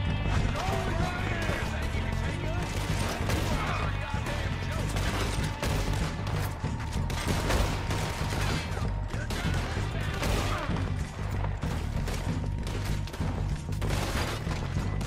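Gunfire in Red Dead Redemption 2, a western shootout with repeated shots and mechanical clatter inside a dense mix of game sound, horse hooves and a voice talking.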